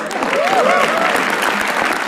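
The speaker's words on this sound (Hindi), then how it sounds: "make some noise for Azim." A live audience applauds at a comedy roast show. The clapping is loud and dense, with whistles and cheers rising through it, and it holds steady for the whole stretch.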